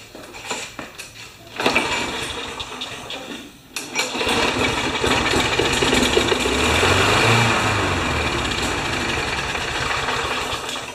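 A Briggs & Stratton Quantum small engine runs roughly, catching after a couple of sputtering attempts and then holding an uneven, knocking putter that stays close and loud.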